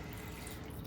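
Chicken broth poured from a can into a cooking pot for chicken adobo, a steady close liquid splashing and trickling that runs without a break.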